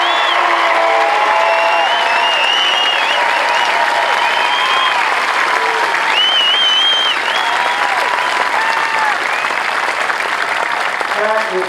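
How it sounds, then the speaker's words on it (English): Crowd applause at an Air Force Basic Military Training parade, loud sustained clapping that fills the whole stretch with scattered cheers and whistles rising over it. "join me in a round of applause and welcome them to the United States Air Force"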